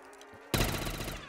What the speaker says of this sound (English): I was just trying to shoot!